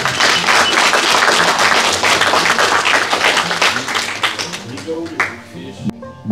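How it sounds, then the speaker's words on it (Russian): Applause at a carp fishing competition awards ceremony on the Sea of Galilee: a crowd claps loudly and steadily, then the clapping thins and fades out at the end. "Аплодисменты!"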